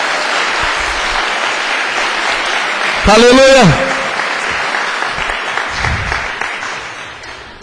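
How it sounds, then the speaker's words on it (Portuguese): A Portuguese-speaking church congregation claps continuously throughout, with a loud sung or shouted voice rising briefly above the applause midway and murmured talk underneath. "Pode aplaudir o Senhor."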